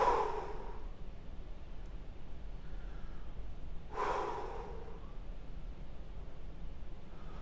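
Two loud, close breaths, sharp exhalations a few seconds apart, are heard during a hockey training workout over a steady low background hiss.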